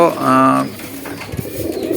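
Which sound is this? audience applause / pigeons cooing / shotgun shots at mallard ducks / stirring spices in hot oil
pigeons cooing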